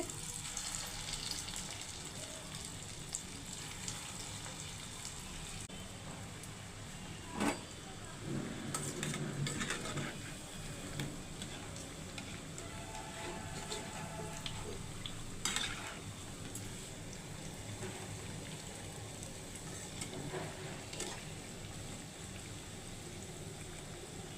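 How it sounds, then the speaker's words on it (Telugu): Punugulu fritters of dosa batter deep-frying in oil over a medium flame, a soft, steady bubbling hiss held throughout, broken by a few brief clinks of a utensil against the pan. "ఆయిల్ మీడియం ఫ్లేమ్లో పెట్టుకొని పునుగులు వేసుకోవాలి"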